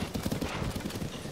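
A black horse with white feet trots in Zelda: Tears of the Kingdom, its hooves giving a quick, even clip-clop that runs through the moment at moderate volume, with faint game sounds underneath.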